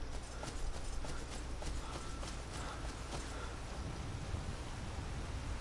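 Steady rain pours in Skyrim as a dense, even hiss that holds level throughout, with faint soft tapping under it and no voices.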